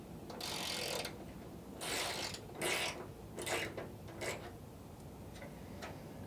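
Wrench or ratchet loosening the fuel tank strap nuts from underneath a 1968 Camaro, a series of bursty metallic ratcheting clicks in short irregular spurts, fairly close, with no talking.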